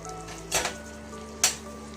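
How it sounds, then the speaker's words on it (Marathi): Chopped onions for a veg paneer pulao sauté to golden in a pan. A steady low sizzle runs throughout, broken by two loud, brief scraping stirs about a second apart. "कांदा छान असा सोनेरी रंगावर परते"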